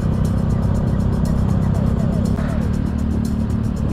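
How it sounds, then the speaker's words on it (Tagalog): Road traffic in Pagsanjan, Laguna, heard while riding a Honda Click 150 scooter: a loud, constant engine drone and wind rumble with vehicles passing close by. "Medyo traffic na dito."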